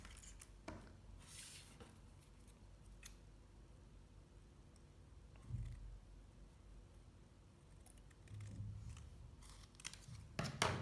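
Scissors snipping a small folded piece of ribbon for a gingerbread bow craft; faint, close, crisp cuts arrive in a few scattered clusters over a quiet background.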